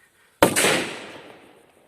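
A PP1 Hammer firecracker goes off outdoors with a single sharp, loud bang and a brief second crack, then a long fading rumble and echo tail, with no voices.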